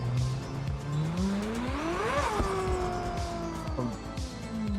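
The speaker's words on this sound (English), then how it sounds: "I almost wish the engine didn't sound so smooth" A car engine hums and revs steadily in a car-building video game, with its pitch rising to a peak and then falling as the car drives on, over a rhythmic ticking from the road.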